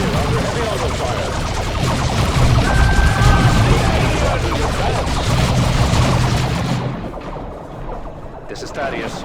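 Dense battlefield gunfire and explosions from the Dawn of War II video game crackle continuously, loud and close, with voices talking over the barrage before it thins out near the end.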